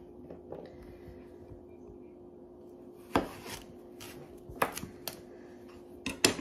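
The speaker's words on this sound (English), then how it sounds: "I'm gonna start by chopping up the squash." A knife chops through squash on a cutting board with a few sharp, separate thuds, spaced out against a quiet kitchen background hum.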